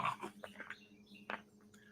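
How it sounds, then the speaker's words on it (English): Two Jack Russell terriers, one two years old and one a three-month-old puppy, playing outside, giving short scattered yips and growly bursts at a moderate distance over quiet background. "I got a 2-year-old Jack Russell and a 3-month-old Jack Russell."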